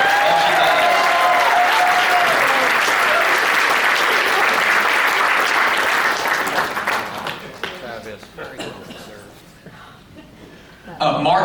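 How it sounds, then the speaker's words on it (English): An audience at a foundation charity event breaks into loud, sustained applause with some cheering and voices, gradually thinning into scattered clapping and chatter before a final burst at the end. "Everybody give a big round of applause to Hope Compton."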